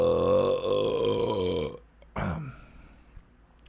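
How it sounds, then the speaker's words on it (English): A long, loud, resonant burp with a strongly harmonic tone lasts almost two seconds, followed by a shorter, rougher belch-like burst after a brief pause. "I burped."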